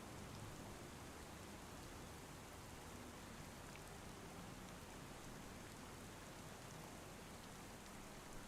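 In the video game Farming Simulator, rain falls as a steady, faint, even hiss of drops on surfaces that runs unbroken throughout, with no talk.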